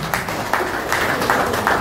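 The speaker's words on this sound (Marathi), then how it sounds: "एकदा जोरदार टाळ्या." Audience at a book launch ceremony in Dombivli clapping loudly, a brief spell of crowd applause with a few sharper claps standing out over a busy hall background.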